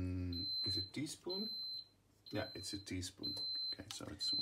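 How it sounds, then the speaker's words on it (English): A steady high electronic beep from a Mickey Mouse double flip waffle maker signalling it is heated, sounding repeatedly, several sustained tones interrupting as people talk over it. "what you hear right now is the indication that the Mickey waffle machine is warm enough"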